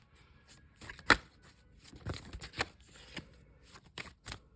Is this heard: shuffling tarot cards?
yes